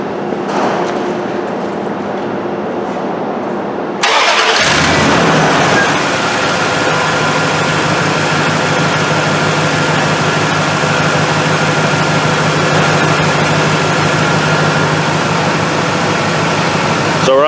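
A Dodge 4.7 V8 cranks and catches, then settles into a loud, steady, close-up idle with a constant low rumble and faint mechanical ticking.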